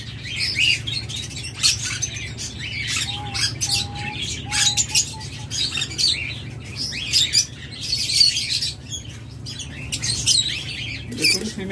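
Caged pet birds, a black opaline pair with the female about to lay eggs, chirp and twitter in rapid, busy bursts throughout, close by, over a low steady hum.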